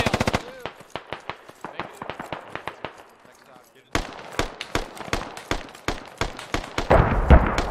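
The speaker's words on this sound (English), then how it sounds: "Incoming mortars!" Incoming mortar fire in the video game Squad: a rapid stream of sharp impacts, a brief near-silent gap, then renewed repeated blasts that grow louder toward the end.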